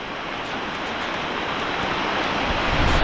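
Heavy rain pouring down on a trek at Gorakhgad fort, a steady dense wash of close, loud noise that stays unbroken throughout with no voices.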